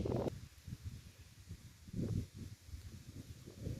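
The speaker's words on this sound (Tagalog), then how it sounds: "Medyo mahangin lang dito ng konti ngayon" Low, blustery wind buffets the microphone in uneven gusts, rumbling and swelling outdoors with no voices.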